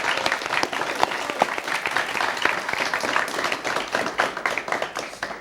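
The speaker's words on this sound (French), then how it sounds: "Qu'on applaudit bien fort" Studio audience at a student-run school TV news broadcast claps warmly and steadily, a dense patter of many hands with scattered sharper claps, moderately close and with no talking over it.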